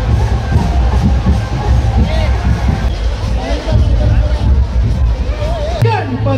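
Dense crowd hubbub at the Chintamani Ganesh arrival procession in Chinchpokli, a loud continuous babble of many voices close by, with scattered shouts and raised calls over the mass of sound.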